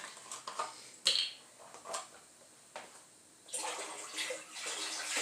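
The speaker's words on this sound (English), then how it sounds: "I'm going to add the chicken broth at this time." Chicken broth pours into a pot with a splashing, gurgling rush, after a few clinks and knocks of kitchen handling.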